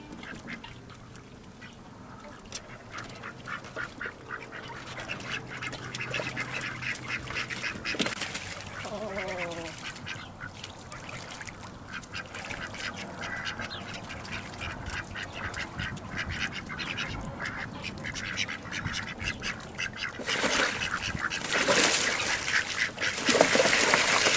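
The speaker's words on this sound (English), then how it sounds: "These are our African gray geese." Young one-month-old African grey geese on a farm call and honk in soft, repeated bursts mixed with duck-like quacks, fairly distant and low in level over a steady outdoor background.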